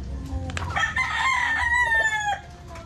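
A golden gray gamecock rooster crows once, loud and close, a full drawn-out call over faint background noise at a cockfight setting.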